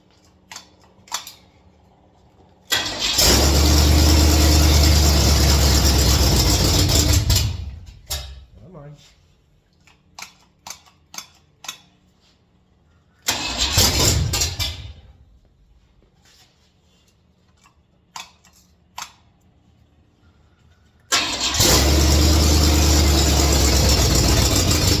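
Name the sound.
car engine cranking and starting after Holley 750 carburetor rebuild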